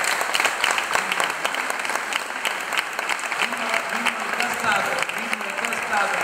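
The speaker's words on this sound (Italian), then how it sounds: "un applauso!" A concert audience applauds the singer with steady, full clapping, while a voice speaks faintly beneath it.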